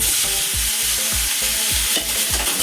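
Onions fry in hot oil with two bay leaves for a mutton curry, loud and close, with steady sizzling broken by repeated rhythmic scrapes of a spatula stirring in the pan.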